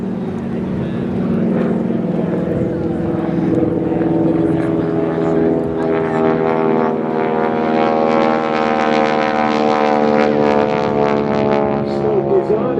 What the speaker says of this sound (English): Kevin's going to turn the airplane around.